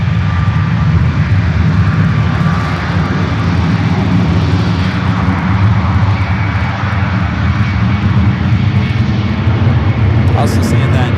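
A Delta Boeing 767 jet airliner taxis toward runway 1 at San Francisco International Airport, its engines making a loud, steady roar that fills the whole stretch while someone talks over it.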